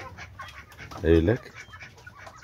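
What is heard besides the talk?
chickens clucking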